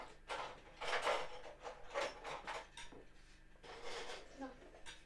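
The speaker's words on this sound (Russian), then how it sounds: "Это ложка огромная такая." A large spoon clinks and scrapes against dishes at a home meal, with repeated clattering bursts of utensils on plates and pots, fairly close, alongside soft speech in the background.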